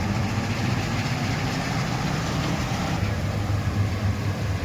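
A tractor engine idles with a steady low rumble on a village farm during wheat harvest, continuous and fairly loud with no talk.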